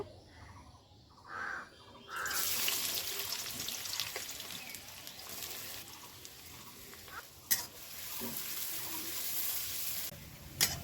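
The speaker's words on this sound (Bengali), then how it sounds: "আমি পেঁয়াজ কেটে নিয়েছি যতটা আমার বেরেস্তা লাগবে ততটা আমি ভেজে নিব" Sliced onions frying in hot oil for birista, a steady bright sizzle that swells after a quiet start and holds fairly loud, with a couple of sharp clinks near the end.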